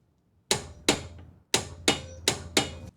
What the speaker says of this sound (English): Let's check it with the torque wrench and see how close it was.